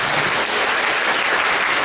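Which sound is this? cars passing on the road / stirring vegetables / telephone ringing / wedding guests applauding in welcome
wedding guests applauding in welcome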